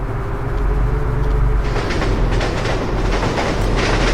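A heavy freight train in the Soviet Republic city-builder rolls slowly along the rails, a continuous low rumble with rhythmic clickety-clack that grows denser and brighter partway through, steady and close with no talking.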